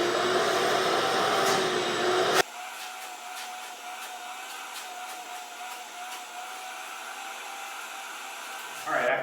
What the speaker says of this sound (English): We're going to come through and vacuum out the holes so we get the debris gone.